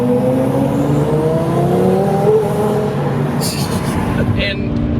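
A twin turbo Lamborghini Gallardo, about 1200 hp, accelerates hard while merging onto a highway, its engine note rising steadily and loud with rushing road and wind noise throughout.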